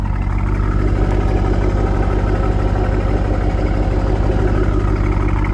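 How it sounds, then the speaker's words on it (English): A 2000 Chevrolet Corvette C5 with an aftermarket exhaust idles with a deep, steady, throaty exhaust rumble, constant and close, with no talking. "Does have an aftermarket exhaust,"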